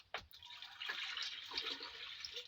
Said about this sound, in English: I'm going to add in water.